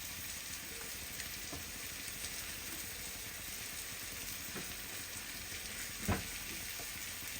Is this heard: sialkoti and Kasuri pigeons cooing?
no